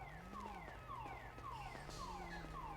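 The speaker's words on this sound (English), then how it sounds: "This car alarm's gonna drive me nuts." A car alarm wails in a repeating falling-tone pattern, steady and continuous, fairly faint and heard alone.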